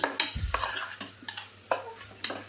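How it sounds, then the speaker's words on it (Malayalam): A pan of tomatoes, coriander and green chilli being stirred, with sharp spoon scrapes recurring every half second or so over a soft sizzle, close and moderately loud, no talking. "എന്നിട്ട് നമുക്ക് ഈ തക്കാളിയൊക്കെ ഒന്ന് വയന്ന് വരുന്നത് വരെ നന്നായിട്ടൊന്ന് ഇളക്കി കൊടുക്കാം"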